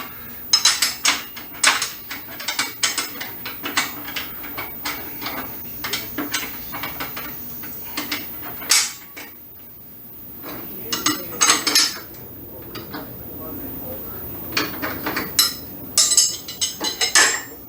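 Metal clinks, ratcheting clicks and rattles as a stacked dado blade set and chippers are fitted, snugged up and rotated on a table saw arbor, a busy run of sharp close taps with brief quieter gaps.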